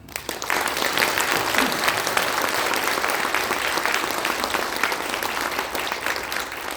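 An audience applauds steadily at a Korean political party launch event, dense continuous clapping from a large crowd that holds its level for several seconds without a voice over it.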